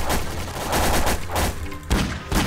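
Gunfire in a Garry's Mod FNAF co-op maze mod, a dense burst of loud, rapid shots in irregular rhythm, close and continuous with brief gaps.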